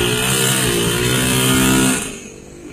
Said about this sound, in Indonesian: siapakah punya motor ini?